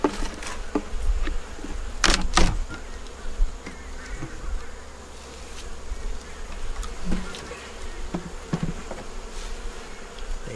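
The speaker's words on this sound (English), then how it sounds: "it had a yellow queen and brood and eggs in the top box" Honey bees buzz steadily and close in an open hive whose top box holds a yellow queen, brood and eggs, with a few sharp clicks near the start and no talking.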